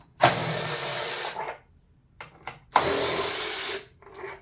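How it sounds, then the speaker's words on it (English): A powered 5/16 nut driver backs screws out of a Peavey SP5TI speaker horn, giving two loud, close whirring bursts of about a second each, separated by brief clicks and handling noises. "So 5/16 nut driver, we'll pull this horn out of here."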